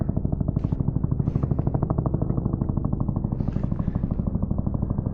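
A Huey helicopter passes low overhead, its rotor throbbing in a rapid, even chop with a loud, steady engine roar that rises slightly toward the end.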